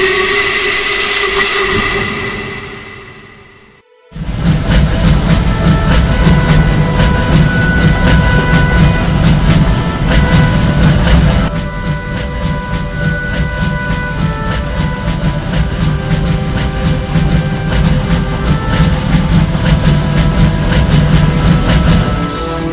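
A steam train engine arrives on the railway, a loud sustained rumble and rolling rattle with steady clickety-clack that swells after a brief drop near the start and continues strongly for the rest.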